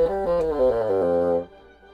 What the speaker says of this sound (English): The bassoon is a tenor instrument from the double reeds family of woodwind instruments